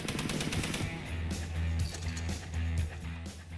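Heavy machine gun fire from a TV show, rapid bursts of shots with booming low thuds and crackling reports, loud and sustained throughout.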